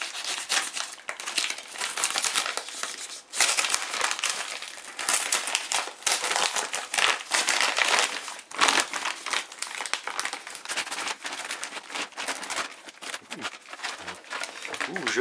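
Brown paper packaging being unwrapped and crumpled while unboxing a Tokyo Marui Desert Eagle airsoft pistol, with close, busy crinkling and tearing bursts running throughout at steady loudness.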